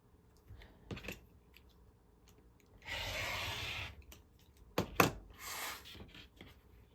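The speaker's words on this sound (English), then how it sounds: "now we're going to cut this block apart on that drawn line" Scissors or a rotary cutter slicing apart a sewn fabric quilt block along a drawn diagonal line, with a few soft snips and two longer rasping cuts, close and quiet.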